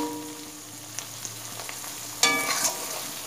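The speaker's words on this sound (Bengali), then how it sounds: "এবার মশলাটা আমি ভালো করে কষিয়ে নেব যতক্ষণ না তেলটা উপরে উঠে আসে।" Spice paste for a pomfret fish curry sizzling in oil, a quiet steady fry with light stirring clicks, then a sharper, louder burst of sizzling near the end.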